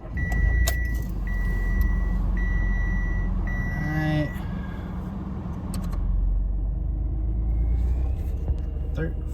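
A car engine turns over and settles into a steady, low idle close by, with a series of electronic warning chimes repeating at the start.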